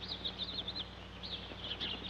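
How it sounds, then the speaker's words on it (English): Sparrows chirp in quick, high twittering bursts at a distance. The calls are faint against a low steady background hum. "Aren't they the famous swallows of Capistrano? Sparrows."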